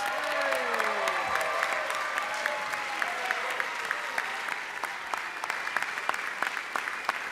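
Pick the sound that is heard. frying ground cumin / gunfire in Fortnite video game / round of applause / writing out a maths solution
round of applause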